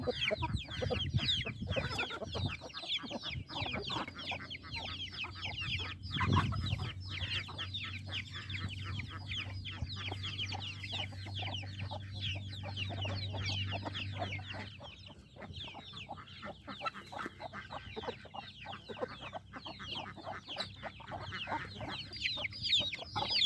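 Hens cluck softly and continuously while chicks peep in rapid high chirps during feeding, close by, with a low hum in the middle of the recording.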